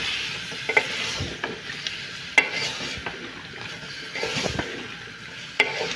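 Potatoes and eggs frying in a pan, a steady close sizzle broken by a few sharp scrapes and clicks as the mixture is stirred, with no talking.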